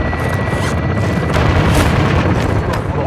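A helicopter strike blows up a vehicle in the Modern Warfare 2 video game: loud, continuous rumbling blasts with crashing bursts that fill the whole stretch without a break.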